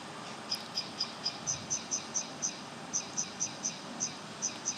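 Audio instructions from an assistive device during a Cybathlon task, a faint series of short regular beeps repeating about every quarter second over quiet background hiss.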